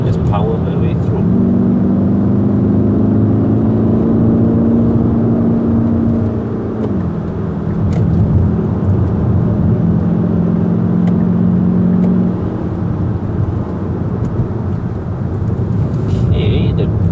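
A Kia Optima GT in sport mode pulls hard under acceleration, its engine a loud, steady drone that climbs in pitch through a long pull, drops at a gear change, then rises again, with continuous road and wind noise around it.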